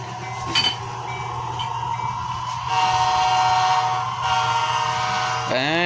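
A model railroad layout plays its railroad crossing sound effect, a steady electronic tone with a mechanical hum underneath, holding at an even level before a rising sweep cuts in at the end.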